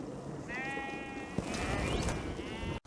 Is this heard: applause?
no